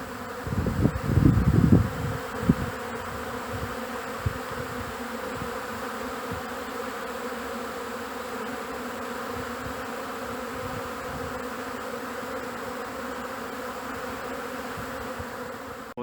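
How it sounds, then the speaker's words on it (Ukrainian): A dense, steady hum of many honeybees buzzing on a spring cleansing flight around their hives, with a few louder close passes near the start, continuing evenly throughout. "Якщо потужно облітується, значить у вуликах є бджола."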